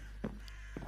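A bird in a Minecraft game caws twice, short and fairly faint over a steady low hum, with the calls spaced about half a second apart.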